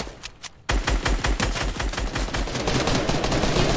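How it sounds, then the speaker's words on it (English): Egg launcher firing in Fortnite during a bot-killing battle lab match, loud rapid repeated bursts in a fast steady rhythm after a brief quieter opening. "I just got an egg launcher."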